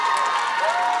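A studio audience at a K-pop idol debut competition show applauds and cheers, a short dense burst of clapping mixed with crowd noise and a sustained tonal sound running through it.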